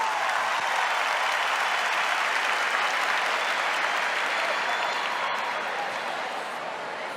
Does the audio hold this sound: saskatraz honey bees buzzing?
no